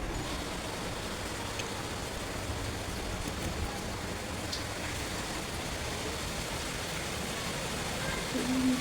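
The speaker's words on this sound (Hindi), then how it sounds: "बहुत ज़ोरों से बारिश होने लगी है" Heavy rain falls in a constant dense hiss of drops that stays even and fairly loud throughout, with faint voices somewhere in the background.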